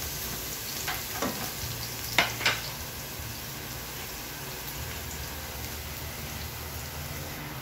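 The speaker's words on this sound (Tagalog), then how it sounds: "unahin natin igisa yung bawang dahil mainit na yung mantika" Five cloves of garlic sauté in hot cooking oil, giving a steady, rain-like sizzle with a few clattering stirs early on, close and moderately quiet with no talking.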